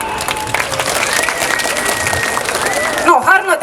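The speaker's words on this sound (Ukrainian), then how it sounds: "Аплодисменти їм." Audience at a city day dance contest applauding a dance couple, a crowd clapping steadily and fairly loudly, with a voice rising above the applause near the end.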